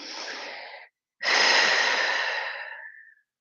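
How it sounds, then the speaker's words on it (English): Two deep breaths during an evening stretching exercise in an ab workout: one long breath, a brief pause, then a longer, fuller exhale. Both are close and clear, with no talking. "Deep breaths."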